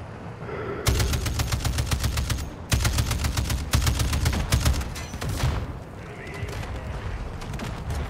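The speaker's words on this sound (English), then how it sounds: "we got people shooting at us" Dense bursts of rapid automatic gunfire in the video game Call of Duty: Warzone, Armored Royale mode, loud and continuous with brief gaps between volleys, over a steady background din.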